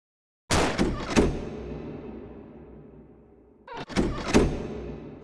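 A locked door tried in a VR dungeon game, two heavy wooden thunks with rattling, a long fading ring, then another pair of rattling knocks, close and moderately loud.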